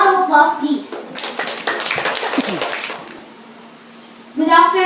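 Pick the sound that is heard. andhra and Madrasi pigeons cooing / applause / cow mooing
applause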